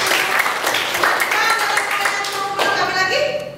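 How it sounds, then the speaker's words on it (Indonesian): Group hand clapping in a classroom discussion of kidney disease, a dense steady patter of many hands that fades at the end, with voices mixed in. "Tepuk tangan dulu."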